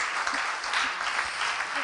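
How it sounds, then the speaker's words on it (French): A crowd applauds, with brisk clapping filling the moment and a voice or two faintly mixed in beneath it. "qui peut être applaudi Marilou"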